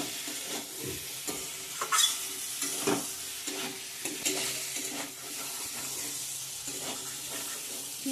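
Water poured into a hot pan of vegetarian paneer masala sets off loud bubbling and hissing, with repeated stirring scrapes over the continuous sizzle close by; no talking.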